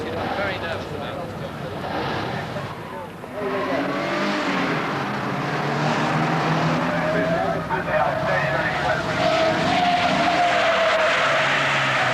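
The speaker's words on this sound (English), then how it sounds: "The first event was the celebrity race with 15 Citroen CXs" Several Citroen CX cars race together in a celebrity event at the 1981 Dubai Grand Prix, their engines droning and rising in pitch as they pass, with tyre noise mixed in and a continuous loud crowd-like roar of mechanical sound throughout.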